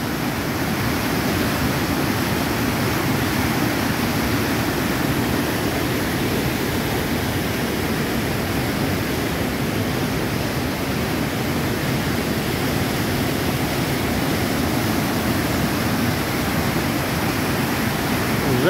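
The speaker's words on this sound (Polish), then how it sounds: "Rzeka Żabniczanka, Żabnica, wodospad." The waterfall on the Żabniczanka river at Żabnica roars as a loud, unbroken wash of rushing water, steady and close throughout with no other sounds.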